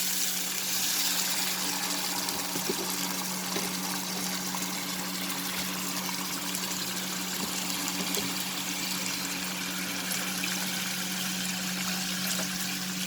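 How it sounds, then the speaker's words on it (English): Water poured into a pan of cooked masala for an egg drop curry, a steady unbroken rushing pour that runs for the whole stretch at even loudness, with no voices. "we will add water to this recipe"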